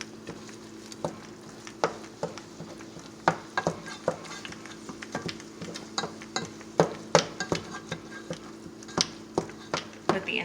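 Food browns in a pan with spinach, a low steady sizzle broken by frequent clinks and scrapes of a utensil against the pan, fairly quiet, with faint voice in the background.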